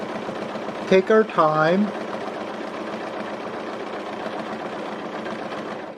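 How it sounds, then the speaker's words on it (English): A sewing machine stitches a row of quilt backing with a straight stitch foot. Its steady mechanical whir runs throughout at close range, and a voice speaks briefly over it. "and sew in the stitch."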